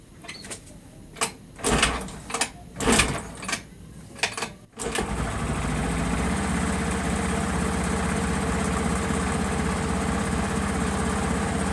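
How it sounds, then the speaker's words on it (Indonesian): A Honda Beat FI scooter that had electrical trouble cranks with several short starter bursts, then catches and settles into a steady, even idle that runs on close and loud. "Kita coba starter ya."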